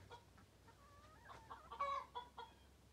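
Backyard hens and a rooster on a Northern Michigan farm clucking softly at a distance, a few short calls rising into a louder burst of clucks, quiet overall.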